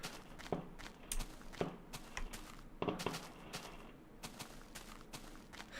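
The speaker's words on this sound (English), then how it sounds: "people are setting off fireworks like mad" Fireworks going off outside on bonfire night, heard as a series of sharp distant bangs and crackling pops at irregular intervals, moderately faint against a background hiss.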